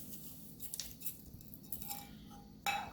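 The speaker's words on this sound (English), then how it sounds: "So we're gonna stir in our sugar." Sugar being stirred into a Jamaican spice bun mixture, with a utensil clinking and scraping lightly against the bowl in scattered soft taps, ending in a brief louder clatter.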